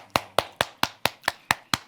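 Eight sharp, evenly spaced hand claps ring out close and loud in a steady rhythm, each one crisp with a short decay and no voices over them.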